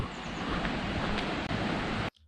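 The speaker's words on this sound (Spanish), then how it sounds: "Escucha como una cascada, un río." A waterfall or river rushes in a quiet rural village in northern Spain, a steady broadband roar of flowing water that cuts off abruptly near the end.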